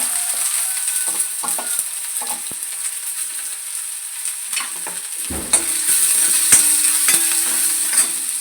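Chopped shallots going into hot oil with mustard seeds, a loud close sizzle over scattered taps and popping, then a louder burst as the shallots hit the oil and a steadier fry with occasional scrapes, no talking.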